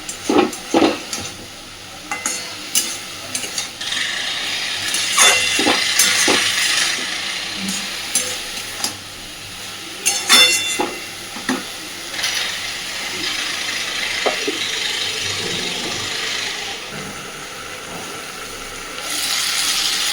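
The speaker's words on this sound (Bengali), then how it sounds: "আবারও সুন্দর করে নাড়াচাড়া করে মিশিয়ে দিয়ে ঢাকা দিয়ে দেব।" Snake gourd and potato curry is stirred in a frying pan, the spatula scraping and clattering in bursts over a steady sizzle of frying vegetables, close and fairly loud without any voices.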